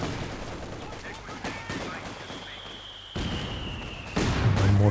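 Mortar pit in a Company of Heroes 2 battle firing amid a continuous wash of gunfire, with a rising whistle and a louder burst of blasts toward the end, all close and loud.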